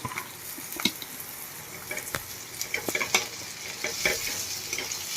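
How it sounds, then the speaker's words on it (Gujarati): Sliced onions fry in a hot pan as spiny gourd (kantola) goes in, with a spatula scraping and stirring in repeated clicks over a steady, close sizzle and no voices. "ડુંગળીને આપણે એકદમ સરસ ગોલ્ડન બ્રાઉન થવા દઈશું આપણી ડુંગળી એકદમ સરસ પાકી ગઈ છે હવે આપણે એમાં કંટોલા એડ કરી દઈશું"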